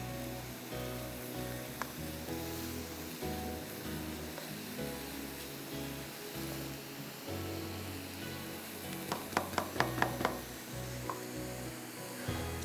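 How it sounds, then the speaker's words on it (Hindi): A kilo of carrots frying in half a cup of ghee, cooked uncovered for gajar halwa, gives a steady sizzle under background music, with a short run of sharp spoon clinks near the end. "आधा कप घी में 1 किलो गाजर को हम थोड़ा सा भून लेंगे"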